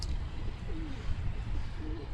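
A pigeon coos softly in a pair of low, rolling calls beneath a steady outdoor hiss and rumble, near and fairly clear.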